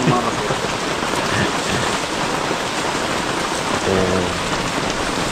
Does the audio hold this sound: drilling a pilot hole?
no